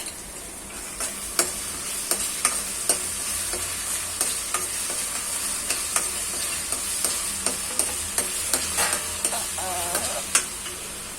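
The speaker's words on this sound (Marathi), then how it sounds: "हे आपण मसाले जे घेतलेले आहेत ना आणि मिरची ती टाकूया." Spices and chili frying in oil with garlic-ginger paste while being stirred, a steady bright sizzle with regular scraping stir strokes throughout, close and fairly loud, no voices.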